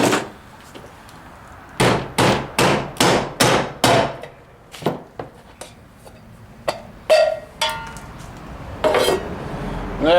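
A hammer strikes a nut on an Ingersoll Rand air compressor, a quick run of about six sharp metallic blows, then a few scattered, softer knocks and clanks, close and loud.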